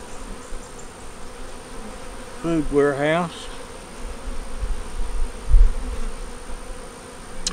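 Honey bees in a hive during an inspection, with a yellow queen, eggs and brood, give a dense, steady buzz that runs throughout, close and even. A short burst of speech rises over it near the middle.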